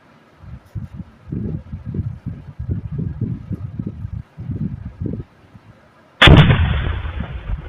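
Gunfire in war footage from the Pakistan–Afghanistan conflict: a long burst of rapid, muffled shots in repeated clusters, followed by a single loud, close blast that rings out and fades.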